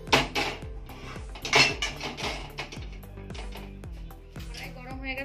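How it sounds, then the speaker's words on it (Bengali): A metal wok set down on a kitchen gas stove, giving several ringing clanks and knocks that decay with a metallic hum, close and fairly loud, with no talking. "কড়াইটা বসিয়ে দেব।"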